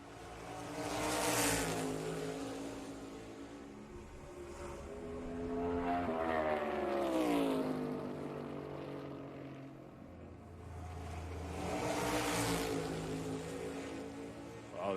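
NASCAR Cup Series race cars at Richmond Raceway during qualifying, engines roaring loudly as they pass, with rising and falling pitch sweeps as cars approach and recede, three loud passes with a steady drone between.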